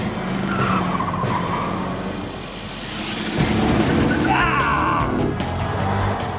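A car speeds through a course of traffic cones, tires squealing and skidding under a loud engine roar, the screech rising and shifting as it swerves through the turns.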